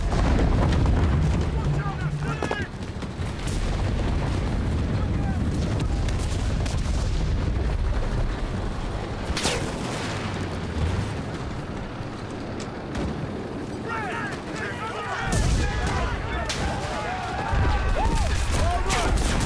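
Gunfire and heavy explosions in a firefight with two tanks in the video game Enlisted, with a dense, loud battle din of booms and shots throughout, with people talking over it.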